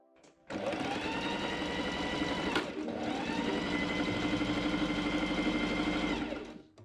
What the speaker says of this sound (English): I machine sew the pink sleeve hem.